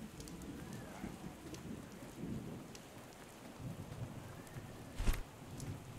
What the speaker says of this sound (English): this is the first time it's rained